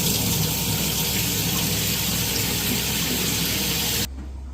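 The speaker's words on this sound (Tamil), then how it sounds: "இந்த மாதிரி அவலை நல்லா வாஷ் பண்ணி தண்ணியை நல்லா ட்ரைன் பண்ணி எடுத்துடுவோம்." Flattened rice (aval) being washed in water, with a steady, close rush of running water and sink splashing that cuts off abruptly near the end.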